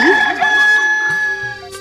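A single loud, close rooster crow serves as an effect within a Bengali poem recitation about a small rooster. It rises and then holds a bright, wavering call for nearly two seconds, heard alone without speech.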